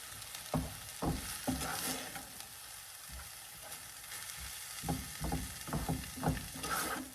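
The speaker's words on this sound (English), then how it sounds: "I'm just going to stir this around and heat this together" Spinach with cumin stirred and heated in a pan for spinach and cheese enchiladas, giving a soft frying sizzle broken by repeated rhythmic scraping strokes of a spoon.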